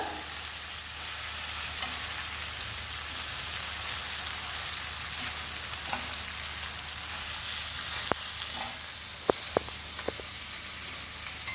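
Fresh gongura (sorrel) leaves fry in a pan with a continuous crackling sizzle, like light rain, broken by a few sharp pops and occasional stirring scrapes near the end.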